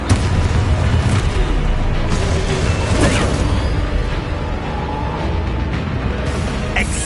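Fiery spell explosions from the Hogwarts Legacy video game, including the Confringo fire spell, with loud close booms and bursts over continuous dense battle noise and no speech.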